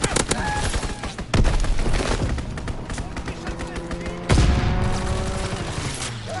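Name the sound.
aircraft strafing gunfire in a WW2 video game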